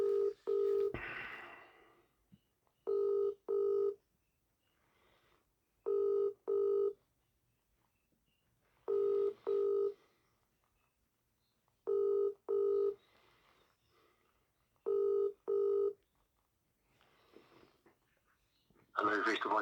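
A telephone ringback tone repeats in paired bursts at regular intervals, with quiet line noise between rings.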